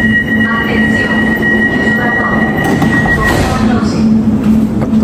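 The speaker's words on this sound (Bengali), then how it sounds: "যাত্রী উঠবে, মেট্রো ব্রেক করবে" Driverless automatic metro train running, a loud continuous rumble from inside the carriage with a steady tonal whine and rising wheel squeal toward the end.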